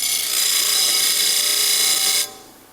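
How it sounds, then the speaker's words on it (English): A big 20-inch disc sander grinds a steel bumper piece flat, a loud, steady abrasive hiss with a whining ring that holds for about two seconds, then cuts off sharply as the metal lifts away. "go ahead and put it on the sander. I'm lucky enough to have a big 20" disc sander."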